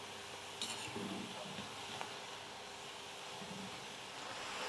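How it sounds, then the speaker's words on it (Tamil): Snack batter frying in hot oil gives a steady, broad sizzle throughout, fairly soft and even, with a few faint bubbling pops near the start and no voices over it. "எண்ணெயில போட்டதுமே மாவு வந்து மேலே நல்லா சூப்பரா எழும்பி வரும்"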